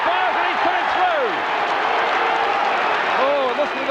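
A large 1983 Australian football crowd at a Carlton versus Fitzroy match roaring in a broad, sustained wash of cheering and clapping, with a commentator's voice talking over it.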